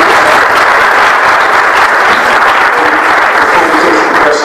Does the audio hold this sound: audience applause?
yes